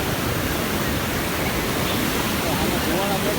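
Water crashing down at a river beside a gurudwara near Manali, where hot spring water meets the ice-cold flow, heard as a dense, unbroken roar filling the whole stretch, close and loud, with a voice talking faintly beneath it.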